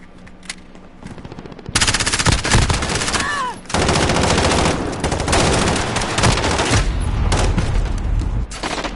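Rapid automatic gunfire from a Call of Duty match bursts loud and close in sustained volleys, with a quieter opening and brief pauses between streams of shots.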